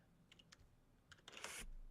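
A few quiet keyboard clicks tapped in a short, uneven burst, followed by a louder rustling clatter.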